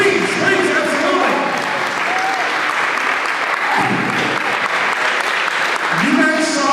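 Audience applause at a live tournament event, a steady wash of clapping from a large crowd that holds throughout at full loudness, with faint voices underneath.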